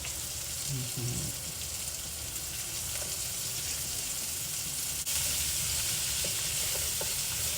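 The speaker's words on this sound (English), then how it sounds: "Now we're gonna add 2 tablespoons of freshly minced garlic." Freshly minced garlic hits a hot skillet in a shrimp and squash dish, a steady close sizzle and hiss that grows slightly louder after a sharp tap midway, with faint stirring clicks and no speech.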